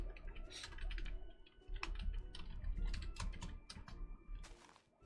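Quick bursts of typing on a computer keyboard during a building stream, close and crisp clacks in irregular runs with brief pauses.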